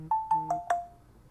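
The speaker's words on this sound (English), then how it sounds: "Ring them bells." Four bright, ringing bell tones strike in quick succession, each decaying briefly before the next, close and clear in otherwise quiet surroundings.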